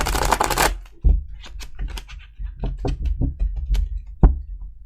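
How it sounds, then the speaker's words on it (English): A stack of tarot cards is riffled with a dense flutter, then quieter taps and snaps as the cards are handled and squared, close by. "One more shuffle."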